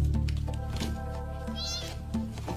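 Young kittens about six weeks old meowing repeatedly in close, loud, high-pitched cries, with a voice talking in the background.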